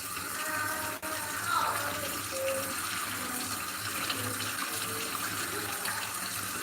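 Tap water runs steadily into a pan set to soak after sitting on the stove all night, a continuous close hiss and splash filling a sink with no talking over it.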